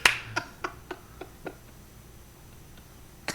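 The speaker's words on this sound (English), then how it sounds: "you're gonna clap when I say 1" A sharp single hand clap rings out close in a car interior, followed by a series of quieter, evenly spaced clicks that fade away.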